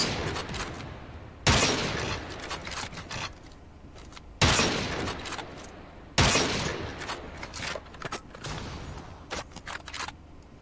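Gunfire aimed at targets on a Call of Duty: Mobile training range, with three loud bursts that each fade out, spaced a few seconds apart, plus lighter shots between them.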